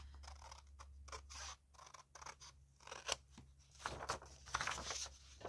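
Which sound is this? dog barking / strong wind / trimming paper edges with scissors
trimming paper edges with scissors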